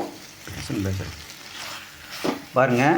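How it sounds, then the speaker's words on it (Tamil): Tomato, onion and curry leaves sautéing in hot oil, a steady sizzle running beneath a person talking throughout. "தக்காளி, வெங்காயம், கருவேப்பிலை எல்லாம் போட்டு எண்ணெய் ஊற்றி ஒரு வதக்கிட்டுருக்கோம்."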